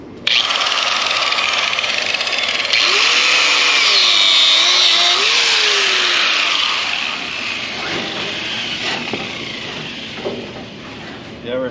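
A grinder cuts through a separated rib with a loud, sustained whine and rasp that shifts in pitch, then eases into a lower rumble toward the end, with voices faintly underneath.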